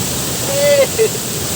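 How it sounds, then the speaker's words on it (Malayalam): Blappila waterfall inside a forest at Chengara, a constant broad roar of falling water with a couple of faint high tonal chirps riding over it. "നമ്മളിപ്പോൾ കാടിൻ്റെ അകത്തുള്ള വെള്ളച്ചാട്ടത്തിലാണ് ബ്ലാപ്പിള വെള്ളച്ചാട്ടം"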